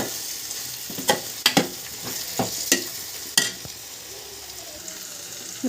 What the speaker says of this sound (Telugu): వేసుకుని బాగా కలుపుకుందాం